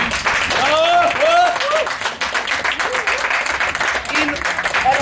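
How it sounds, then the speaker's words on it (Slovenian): Audience applause at an art exhibition opening, steady clapping from a crowd with voices calling out over it, fairly loud and close. "mislim, da si zasluži en aplavz"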